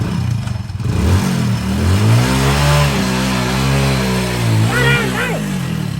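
A vehicle engine revs and pulls while being driven fast, the drone rising and falling in pitch with a couple of surges, loud and close, with no talking.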